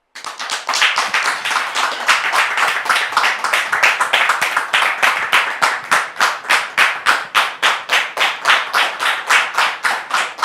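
A studio audience claps in unison to welcome a guest onto a televised show. The loud, sharp claps keep a steady rhythm that grows more regular and evenly spaced, with no talking.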